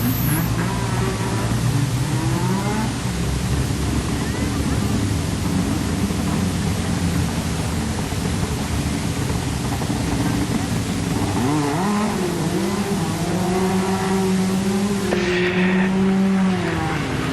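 A National 4's race car does celebratory donuts on the dirt oval at Carina Speedway, its engine revving hard and wavering in pitch, loud and close throughout, under an echoing announcer over the PA.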